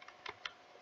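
A few quiet clicks from a computer keyboard as someone types a command into a Roblox game console, brief and close with no voices.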